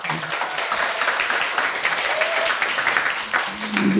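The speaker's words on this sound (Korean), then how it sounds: "박수 한번 보내시기 바랍니다." A hall full of residents at a neighbourhood self-governance general assembly gives a round of applause, continuous massed clapping for about four seconds at a fairly loud level with a faint voice surfacing near the end.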